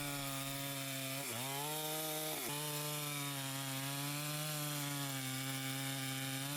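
A chainsaw cuts through a log near a sawmill, its engine droning loud and close with a steady harmonic whine that dips briefly twice as the chain bites into the wood.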